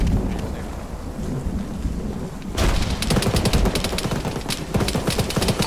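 A frag grenade detonates in a military video game: after a few seconds of dull background, a sudden loud blast bursts in and gives way to sustained crackling rumble, with sharp reports like gunfire continuing to the end.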